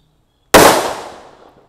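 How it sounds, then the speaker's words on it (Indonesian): A single loud, sudden blast of a stick firecracker set off in water, followed by a splashy decaying wash as it fades over about a second. "ini ada mercon tongkat kera kaget ya. Kita nyalakan di dalam air."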